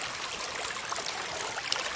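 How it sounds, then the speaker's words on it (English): A forest stream of fresh drinking water babbles and trickles steadily nearby, a continuous broadband wash with small splashy bursts and no voices. "And that is the water source, drinking water."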